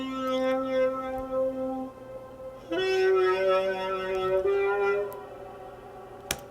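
Sustained saxophone notes ring out with a faked shimmer reverb, a pitch shift an octave up chained after the reverb in Logic, so bright harmonic tails hover above each held tone and change pitch a few times.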